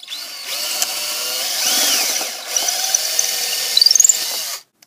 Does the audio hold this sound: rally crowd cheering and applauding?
no